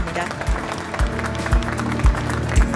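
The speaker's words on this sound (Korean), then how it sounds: "여러분 따뜻한 박수 부탁드리겠습니다" Applause from the audience at KAIST's 50th anniversary ceremony, greeting an achievement award to emeritus computer science professors: dense clapping runs throughout, with low thumps recurring about every half second and voices mixed in.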